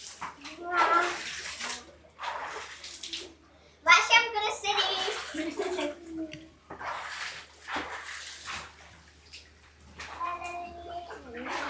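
Children splash water in a swimming pool with bursts of close splashing and sloshing, mixed with kids' voices and adult talk throughout.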